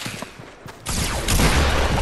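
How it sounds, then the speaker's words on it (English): A grenade launcher fires in the Fortnite video game, a loud burst of explosive blasts that swells after a quiet start and stays heavy and rumbling to the end, with no talk over it. "The new grenade launcher."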